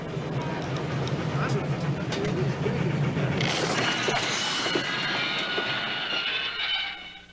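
Venice Simplon Orient Express train running, a steady rumble and clatter of rolling carriages with a rising metallic squeal midway, heard under a talking voice.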